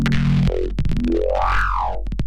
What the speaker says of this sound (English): I've layered a sub sine wave below this and together it sounds like this.